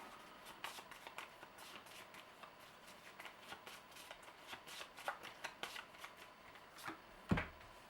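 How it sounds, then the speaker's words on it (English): A deck of cards from the Legendary Encounters: Alien deck-building board game is shuffled by hand, a run of soft riffling flutters that builds to a sharper snap near the end, heard alone and fairly quiet. "Shuffle this deck here"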